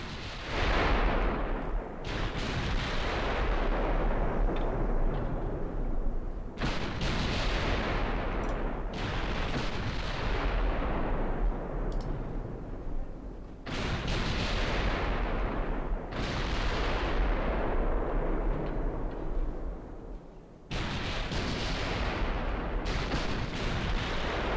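Battleship main guns in the naval game Ultimate Admiral Dreadnoughts firing HE shells, heavy booming salvos that recur every few seconds, each with a rolling decay into a continuous loud rumble, with no talking.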